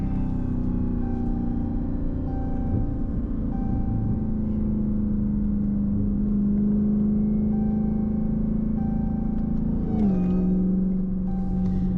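A cammed Dodge Charger Hellcat's engine rumbles low and steady while cruising, heard from inside the cabin, with a brief rise and drop in pitch near the end as it shifts.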